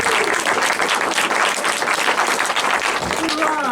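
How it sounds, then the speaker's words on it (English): An audience at a linguistics talk in the Towner gallery, Eastbourne, claps and cheers loudly for a speaker, dense sustained applause with a few whoops and a voice rising near the end. "So give her a cheer too."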